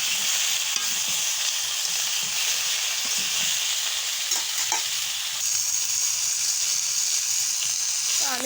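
Freshly picked bottle gourd fries with turmeric in a pan, a continuous sizzle and hiss with occasional stirring scrapes, heard close and steady throughout.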